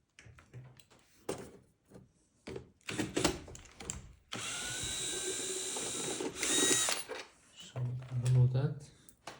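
Small screws being unscrewed from a Bang & Olufsen Beomaster 7000 receiver during disassembly, giving a sustained whirring of a powered screwdriver with light metallic clicks and rattles, close by, mixed with handling noises.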